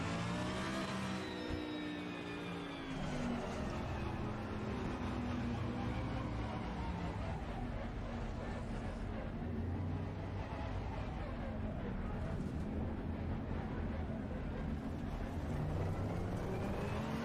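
Race car engines in a video game race roar and rev continuously, pitch sweeping up and down through gear changes as cars accelerate and brake, loud and close the whole time.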